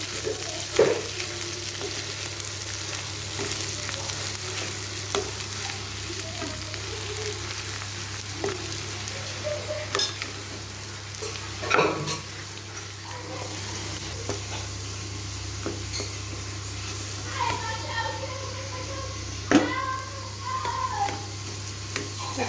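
Pre-boiled dal is mixed in a frying pan for dal puri: a low, continuous sizzle with scattered spoon scrapes and light clinks, close by, and a faint voice now and then.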